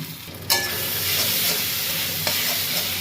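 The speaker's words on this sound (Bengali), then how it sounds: "এরপর দিয়ে দিচ্ছি হচ্ছে আদা আর রসুন আর কাঁচা লঙ্কা পেস্ট। এটা দিয়ে ভালোভাবে কষিয়ে নেবো।" Onions with ginger, garlic and green chili paste sizzle steadily in a pan for a mutton curry, with a sharp stirring scrape near the start and another later, broadband hiss filling the whole stretch without talk.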